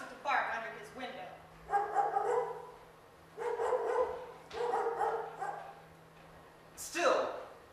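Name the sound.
dogs barking under a window, stage sound effect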